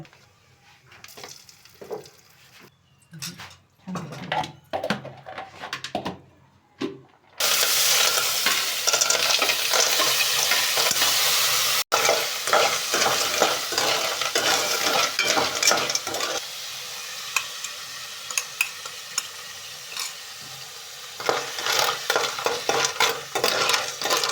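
Snails fried in oil: a few quiet clinks and scrapes of utensils at first, then a sudden loud, hissing sizzle that continues close up, with stirring scrapes and spatters over it.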